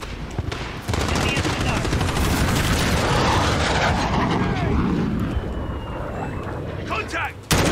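Artillery strike in a video game, dense overlapping explosions and rapid gunfire forming a loud continuous barrage, with a voice talking over it and a sudden cutoff near the end.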